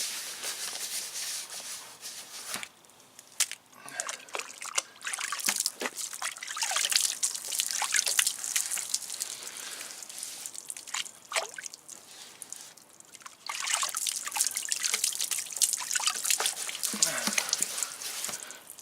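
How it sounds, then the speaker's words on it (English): Water splashes and trickles over a car headlight, rinsing off a toothpaste and baking soda mix. The flow is steady and close, with intermittent drips and sharper splashes and no talk. "And we're just gonna wash all that off."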